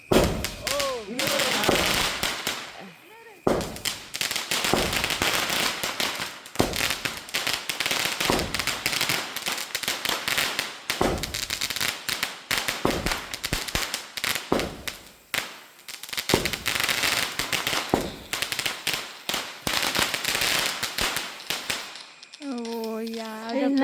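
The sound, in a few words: firecrackers bursting at a birthday celebration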